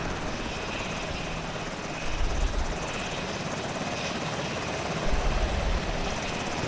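A helicopter in the video game ArmA 2 drones with a steady rotor and engine roar, swelling in low throbs twice, loud and continuous with no talk.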